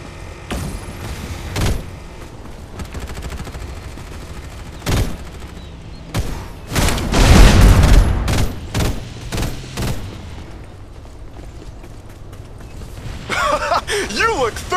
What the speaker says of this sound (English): Open fire! Exchanging fire!